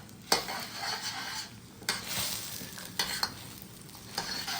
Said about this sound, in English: meanwhile, I scrape the pan and a lot of good mojo is going on